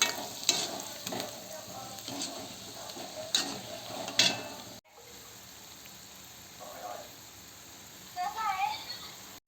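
Bhaji fritters frying in hot oil, a continuous soft sizzle with stirring clinks in the first half, quieter afterward, and faint voices near the end.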